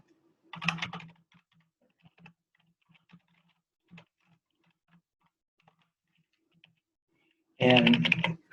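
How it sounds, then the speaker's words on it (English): Someone types on a computer keyboard in a statistics class: a short burst of key clicks, a few scattered single taps through a quiet gap, then a denser, louder flurry at the end. "Ooh, typing."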